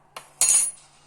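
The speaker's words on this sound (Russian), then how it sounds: "Добавляем соду на кончике ложечки." A small spoon scoops and tips a pinch of baking soda into a mixture for a homemade cough remedy: two short metallic clinks, the second louder and ringing a little longer, close and clear.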